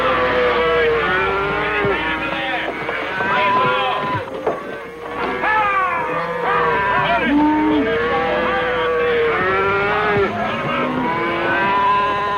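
A sick herd of cattle mooing repeatedly, many overlapping lowing calls near and far, loud and continuous over a rumbling background.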